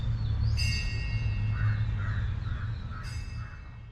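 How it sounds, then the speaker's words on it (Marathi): Several harsh bird calls ring out in short bursts over a steady low rumble at an eighth-century monument in Pune, with a couple of bright sharp cries standing out. "पक्ष्यांचे आवाज कानी पडतायत"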